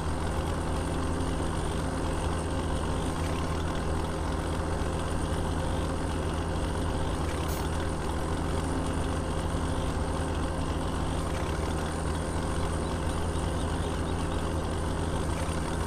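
A tractor engine in the farming game Le Petit Limousin idles with a steady low drone and a constant hum throughout, with no talking.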